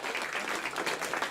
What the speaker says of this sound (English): the room there at the Jet Propulsion Laboratory erupting in applause